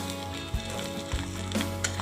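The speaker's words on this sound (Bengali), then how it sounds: "মাছের ডিমগুলো ভেজে নিলাম" Fish roe frying in a pan for a Bengali rui fish and potato curry gives a soft, steady sizzle, close and brief, with no talk.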